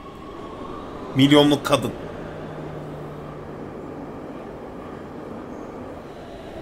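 A subway metro train in the video game Big Ambitions hums steadily, and a voice briefly speaks over it near the start.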